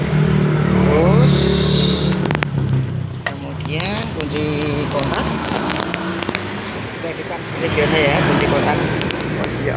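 A Yamaha Mio GT scooter's starter cranks and the engine catches and runs, a steady close motor hum carried under continuous talking.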